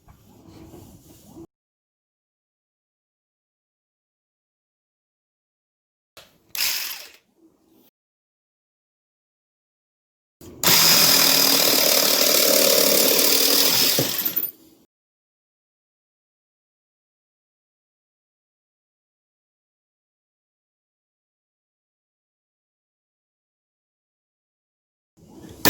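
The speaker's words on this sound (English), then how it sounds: "This jigsaw is fairly quiet and extremely powerful, and I'm going to go ahead and demonstrate it here." A Ryobi One+ cordless jigsaw cuts scrap plywood, heard as short buzzing spurts followed by one loud, steady cutting run of about four seconds, with long stretches of silence in between.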